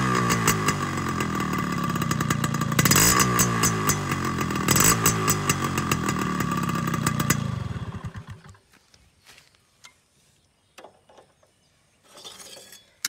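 A Yamaha RX100 motorcycle with an altered muffler runs loud and close, its exhaust beat throbbing steadily for about seven seconds before the engine cuts off, leaving a few faint clinks and rustles.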